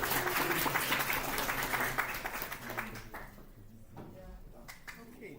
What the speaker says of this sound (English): Can you clap for me?